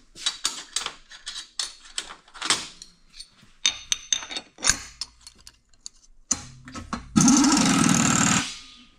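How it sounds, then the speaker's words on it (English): A power drill whirs in short stop-start bursts with ticking clicks while drilling pilot holes in metal hitch parts, ending in a louder sustained burst of drilling near the end. "I could drill all 4 holes in one location"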